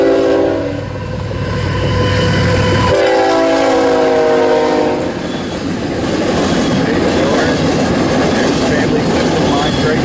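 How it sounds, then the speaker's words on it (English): A CSX freight train runs south on the BNSF Sioux City subdivision with a loud, close horn blast in the first seconds, then a continuous heavy rumble and rolling rattle of passing cars. "This is CSX running south with a lot of good fallen flag cars in the mix"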